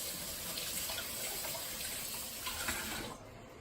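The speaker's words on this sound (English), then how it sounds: "Wash my hand." Running tap water splashes steadily as hands are washed at a kitchen sink during cooking, a continuous broadband rush that cuts off abruptly near the end.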